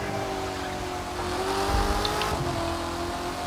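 A Corvette C8 in the video game The Crew 2 with traction control switched off, its engine droning at a steady high pitch with a brief surge midway, loud and continuous with no talk.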